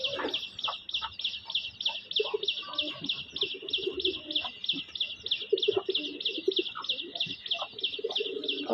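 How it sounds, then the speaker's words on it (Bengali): Pet pigeons feeding together at home coo softly and repeatedly in low, rolling bursts beneath a constant high, rhythmic chirping that pulses through the whole stretch. "কবুতরের ডাকগুলো অনেক সুন্দর লাগে"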